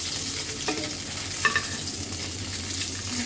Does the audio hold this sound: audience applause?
no